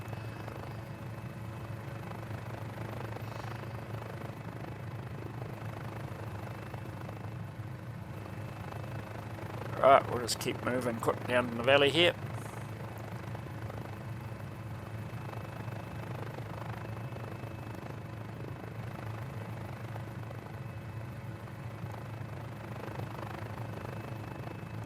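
Mini 500 helicopter flying low through a valley in Microsoft Flight Simulator, its steady engine and rotor drone running throughout beneath a man's brief speech.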